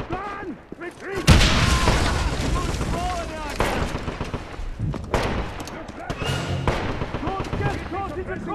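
A grenade explodes in a Wolfenstein dig site battle, a loud close boom followed by rumbling debris and continued gunfire, while voices shout over the chaos.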